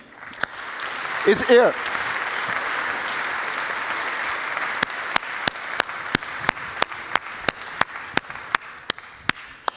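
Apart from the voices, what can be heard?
applause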